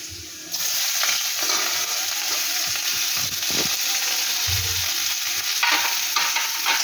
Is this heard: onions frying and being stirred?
yes